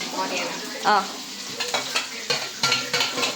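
Onions frying in a pan in a home kitchen: a moderate sizzle broken by repeated clicks and scrapes of a spoon stirring, close by and fairly quiet.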